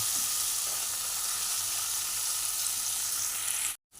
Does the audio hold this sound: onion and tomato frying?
yes